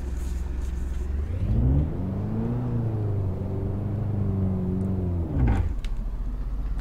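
A learner driver's car pulls away during a first driving lesson: the engine revs climb and waver as the clutch is let out, a close, steady droning rumble that dips near the end.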